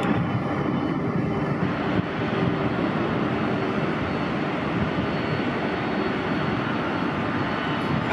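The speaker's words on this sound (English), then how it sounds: "That's a good landing." A jet airliner landing at LAX, arriving after a 15-hour flight from Auckland, gives a steady, loud broadband engine roar with rushing wind noise that holds evenly throughout, no voices over it.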